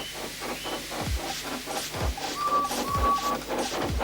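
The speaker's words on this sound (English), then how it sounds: "made lots of steam, and Edward puffed away" A steam engine chuffs in a steady rhythm of hissing puffs, about one per second, with a brief high whistle-like tone in the middle.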